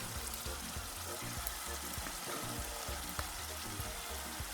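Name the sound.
ingredients frying in a pot for gbegiri soup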